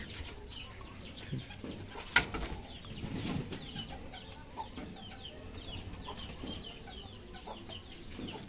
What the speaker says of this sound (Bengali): কিছুদিন আগে যে মুরগির বেবিগুলো হয়েছিল, কিছুদিন মানে 10-12 দিন হয়ে গেল, অনেকটা বড় হয়ে গেছে।